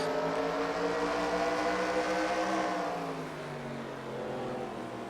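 Race cars at Spencer Speedway roar through a heat race in a steady, loud engine drone that holds near, then eases slightly as the pack moves off.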